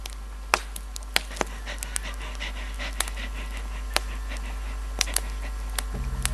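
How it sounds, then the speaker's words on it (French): An unseen dog in a garage pants heavily, with quick faint breaths under a low steady hum and scattered sharp clicks. "Qu'est-ce que c'est que ce halètement ?"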